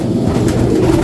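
Pigeons of a bred bloodline coo in a low, steady, throaty murmur that fills the space up close and fairly loud.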